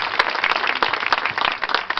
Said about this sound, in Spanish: ¡Fuerte las palmas para Nuestra Señora de la Reconciliación!